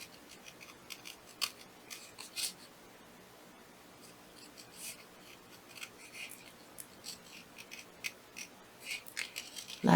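Small scissors snip a paper flower with fine fussy cuts, giving a steady run of quiet, crisp, irregular clicks and rustles close up, with no talking.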